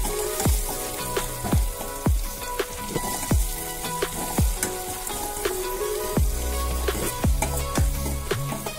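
Tempering for lemon rice sizzling and frying in a pan, with a dense crackle of spattering oil and repeated sharp clinks and scrapes as the mixture is stirred, close and continuous.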